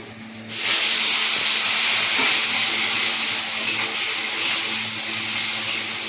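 Water poured into a hot pan of spiced potol dorma masala bursts into a loud, steady steamy hiss and sizzle that starts abruptly and holds for several seconds, with no talking.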